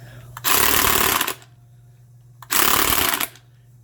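A DeWalt 36V Nano lithium cordless heavy-duty 1/2-inch drive impact wrench, hitting rather weakly, runs in two separate rattling bursts of just under a second each, loud and close, with a faint steady hum between them.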